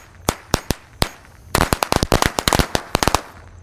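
A pack of Corsair matchstick firecrackers going off outdoors: a few separate sharp cracks, then a rapid irregular burst of loud pops, then several final bangs.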